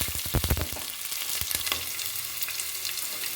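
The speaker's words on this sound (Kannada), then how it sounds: "ಇವಾಗ ನಾನು ಹಸಿಮೆಣಸಿನ್ಕಾಯಿನ ಹಾಕ್ಕೊಳ್ತಾ ಇದ್ದೀನಿ." Green chilies going into hot oil for a dal and palak tempering crackle and spit with a few sharp pops at first, then settle into a steady close hiss.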